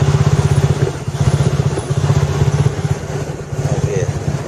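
A motorcycle engine runs close by with a steady, rapid thumping idle, loud and continuous, its rhythm wavering slightly while the bike is held in place.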